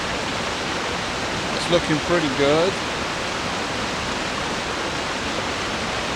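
A waterfall roars as a loud, constant broadband rush that fills the whole stretch, with fallen trees near the site. Someone speaks briefly close by over the steady noise.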